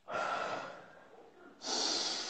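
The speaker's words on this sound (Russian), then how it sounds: "Еще вдох глубокий." A deep breath drawn in during a guided breathing exercise in a psychologist's consultation, one long airy inhalation close to the mic, then a brighter rushing breath near the end, with no talking.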